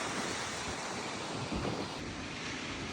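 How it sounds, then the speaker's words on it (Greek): Waterfalls roar beside a bridge, heard from its highest point as a loud, steady rushing wash that fills the whole stretch, with some wind buffeting the microphone and no voices. "Δίπλα μας οι καταρράκτες."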